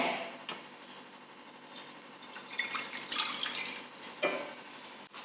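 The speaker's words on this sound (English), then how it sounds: "So to my pot, I'm going to add in a cup of water." Water pours into a pot close by, a splashy trickle that swells and fades over a few seconds with small drips near the end.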